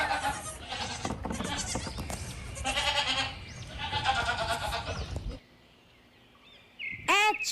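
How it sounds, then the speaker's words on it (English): A goat bleats repeatedly in loud, wavering calls that come in bursts over farmyard background noise. A brief high sound is heard near the end. "G for goat."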